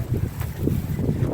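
Wind gusting outdoors on a hot, dry day among wilting plants, a low buffeting rumble against the microphone, close and steady for a moment with no talking.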